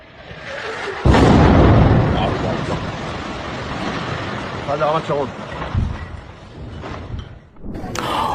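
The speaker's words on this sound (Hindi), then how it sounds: "यह मंजर है जब तेल अवीव पर आकर एक मिसाइल गिरती है।" A missile strikes Tel Aviv in news footage, with a sudden, loud, booming blast followed by a long rumbling roar and scattered crackling debris, while voices shout over it.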